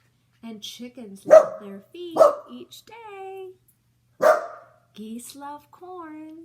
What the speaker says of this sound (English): That's my dog growling